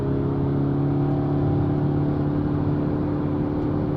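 A Toyota Hilux SRV 3.0 diesel held in second gear drones steadily under load, a continuous loud engine note with a strong low hum and no break in the rev throughout.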